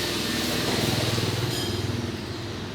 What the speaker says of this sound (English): the soundtrack of the power tools going on in the background